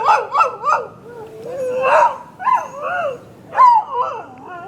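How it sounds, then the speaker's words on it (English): Small dogs at a beach gathering yip, whimper and bark in short rising bursts, several animals overlapping near the listener with brief gaps between outbursts. "What are you barking at, Kong?"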